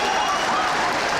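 A football crowd at a 1990/91 Stockport County match roars and applauds a goal, a dense, loud, continuous wash of clapping and cheering.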